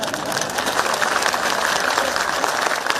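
Audience applause at a political rally in Nadaun, a dense, steady wash of clapping held at constant loudness for the whole stretch, with no break and no voices.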